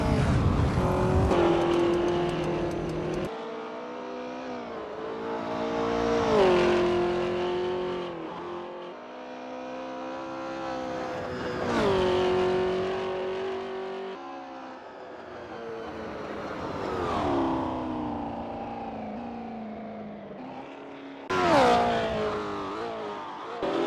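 Engines of 1960s race cars rumble and rev as they warm up at Longford in the Assetto Corsa racing game, a continuous close drone rising and falling in pitch with repeated throttle swells, without talk.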